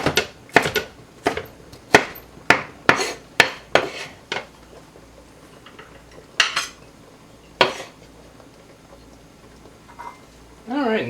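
Pepper being chopped with a knife on a cutting board, a quick run of sharp, close knocks that slows into a few scattered chops near the end.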